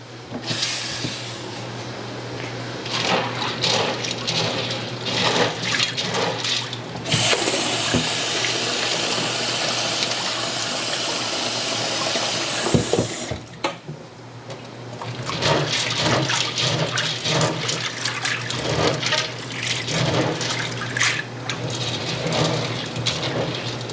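Dry chickpeas are washed under running water in a kitchen, a loud continuous tap stream with swishing and clattering as the beans are stirred, and a stretch of steady hissing flow in the middle.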